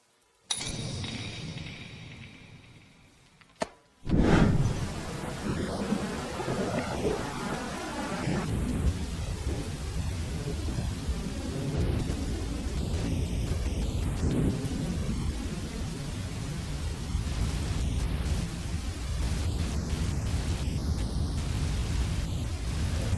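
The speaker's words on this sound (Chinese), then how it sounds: "外面在下雨" Heavy rain falls outdoors with rumbling thunder. Continuous loud downpour noise follows a sudden sharp crack, after a quieter hissing opening that fades briefly to near silence.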